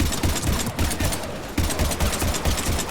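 Dense gunfire from the Mass Effect 3 video game fills a combat scene with loud, continuous rapid bursts, like automatic weapons firing almost nonstop.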